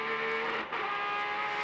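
Porsche race car engine screaming near 9,000 rpm during a sports car race, a sustained high-pitched whine held throughout with a brief dip midway.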